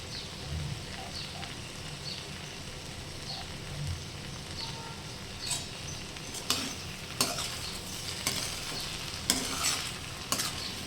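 Potato bhaji frying in a pan with coriander added, giving a steady low sizzle with scraping stir strokes that grow louder and more frequent in the second half, no voices.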